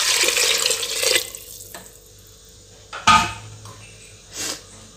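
Water pours briefly into a cooking pot of vegetable biryani, a loud rushing stream for about a second, followed by a few clinks of a vessel in a quiet kitchen.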